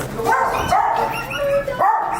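A dog in an office gives a quick string of short, high yips and barks, loud and close, with a whimpering edge between the calls.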